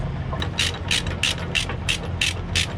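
Ratcheting chain binder being cranked to tighten load chains on a truck, a steady series of about eight sharp metallic clicks in even rhythm, close and fairly loud.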